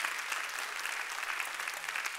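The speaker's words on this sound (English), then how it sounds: "clap your hands and praise him for that power that sets us free" A church congregation at an Easter Sunday service claps hands together in a dense, steady burst of applause with no voices standing out.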